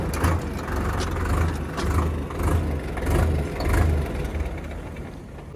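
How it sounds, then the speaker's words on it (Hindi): Preet 6049 Super 4-cylinder tractor running in second low gear at about 1500 rpm, giving a loud, steady diesel drone with a throbbing low pulse and slight surges in level, heard alone without talk. "1500 चक्करों पर दूसरे लो की स्पीड है ये। काफी बढ़िया स्पीड है ट्रैक्टर की।"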